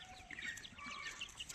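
Tiger chickens cluck and chatter softly while roaming free, several birds heard at once in a faint, continuous stream of short calls.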